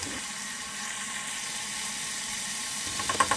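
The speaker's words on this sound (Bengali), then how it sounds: "1 মিনিট ভেজে নিয়ে দিয়ে দিচ্ছি" Spice paste with garlic paste and salt frying in a pan for hilsa fish pulao, a steady close sizzle and hiss running throughout, with a few small clinks near the end.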